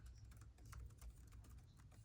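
Typing on the keyboard of a Nexdock XL 15.6-inch laptop shell, quiet, rapid irregular key clicks at close range with no voices.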